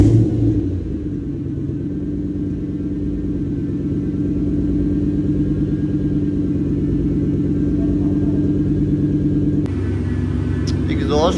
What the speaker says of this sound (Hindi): एग्जॉस्ट के बाद तो माशाल्लाह गाड़ी की आवाज़ वैसी बड़ी कम हो गई है, लेकिन ये जो ग्रोल आ गया ना ये बहुत बजेगा